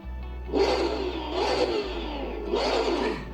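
An Ascari KZ1-R GT3 race car on the Le Mans track in Assetto Corsa revs its engine in three loud surging bursts over a steady idle drone, the idle briefly cutting out midway.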